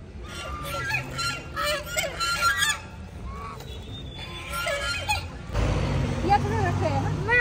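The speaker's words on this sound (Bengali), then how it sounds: "দেখো রাজহাঁস গুলো এসছে খেতে।" Geese gather to feed on bread at a pond full of fish, giving several short nasal honks at close range among people's chatter and background noise.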